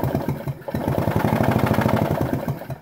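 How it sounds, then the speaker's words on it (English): A small engine cranks over in a fast, even chug of repeated pulses while a spark plug with an insulator tracking fault fires. The sound is loud, close and steady throughout. "So if I turn this engine over,"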